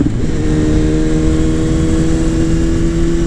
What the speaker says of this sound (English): the sound right now on this bike is just amazing